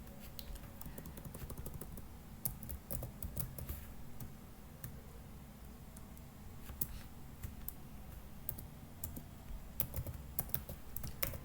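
Soft, quick keystrokes as Python code is typed on a computer keyboard. The light, irregular tapping and clicking continues steadily and stays faint, with no voices.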